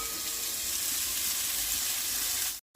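Onions drop into hot oil and fry with a loud, dense, continuous sizzle that holds steady close up, then cuts off abruptly near the end.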